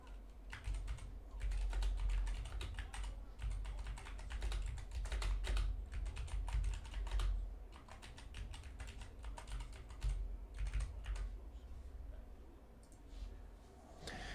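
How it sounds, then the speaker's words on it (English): Rapid, continuous typing on a computer keyboard, dense clattering keystrokes at close range for the whole stretch over a low background hum, with no talking. "Oh my gosh, this keyboard."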